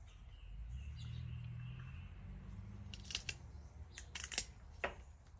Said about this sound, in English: So if you have a grafting tool like this, I just wanted to show you what the cut looks like.